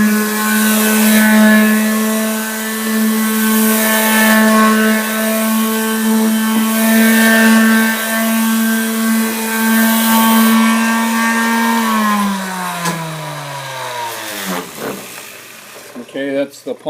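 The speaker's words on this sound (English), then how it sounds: "I'm using a Porter Cable orbital sander with a 220 grit sandpaper on it." A Porter Cable random orbital palm sander with 220 grit sandpaper works a wooden stair tread, a loud, steady motor whine with a strong even hum that holds and then spins down toward the end.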